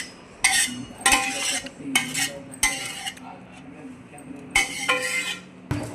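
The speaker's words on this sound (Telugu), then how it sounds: "ఆయిల్ చల్లారింది కాబట్టి కారంలో వేసుకొని కొంచెంగా కలుపుకోవాలి." Cooled oil being mixed into chilli powder in a bowl for mango pickle, heard as repeated scraping and clinking of a spoon against the bowl in uneven bursts, close and fairly loud, with a low murmur behind.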